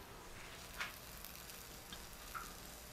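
Food sizzles in a pan on the stove, a steady faint hiss with a few small pops and ticks.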